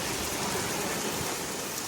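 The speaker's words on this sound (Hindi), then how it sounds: "एकदम तेज बारिश शुरू हो गई है" Heavy rain pours down steadily in an Indian village, a dense, even hiss of drops on surfaces that fills the whole moment without pause or voices.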